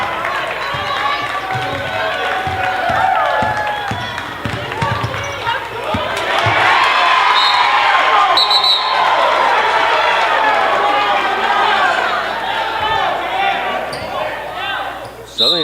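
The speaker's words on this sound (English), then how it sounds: "Suddenly this crowd is alive as the Colonials have hustled their way back in." A crowd cheers at a girls high school basketball game, Gettysburg at New Oxford. Steady crowd noise swells louder midway, with sneaker squeaks and bouncing balls beneath an announcer talking throughout.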